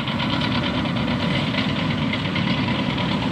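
A truck engine idles beside a road with a steady, rumbling drone and faint knocking pulse, loud and continuous throughout with nothing else standing out.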